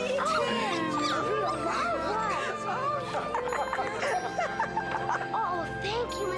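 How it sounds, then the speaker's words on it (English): Puppy whimpers and yips in high, wavering bursts amid festive jingling and Christmas-gift excitement, with people talking and exclaiming over it throughout. "Whoa, a puppy!"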